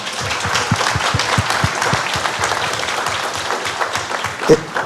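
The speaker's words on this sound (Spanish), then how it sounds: "¿Qué les parece si les damos un aplauso a los compañeros de la DIE?" Sustained audience applause fills an educational innovation conference hall, dense and steady for about five seconds, with a voice briefly rising over it near the end.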